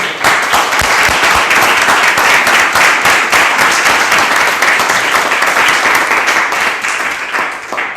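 Loud, sustained audience applause after a children's philosophy talk, dense steady clapping from many hands for several seconds before tapering slightly at the end.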